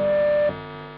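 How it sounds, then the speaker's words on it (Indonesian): High-gain overdrive from a Primer FX stompbox gives a steady loud electric hum that drops sharply midway to a quieter, ringing residual noise. "noise pasti kan karena overdrive nyala gede"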